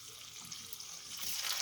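Dasheen pieces fry in a pan for Jamaican fried dasheen, giving a faint, steady, hissing sizzle that grows slightly louder toward the end.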